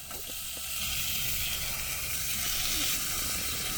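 Bacon fries in a pan at a seaside breakfast cookout, giving a steady, loud hiss and crackle that swells slightly and holds for a few seconds.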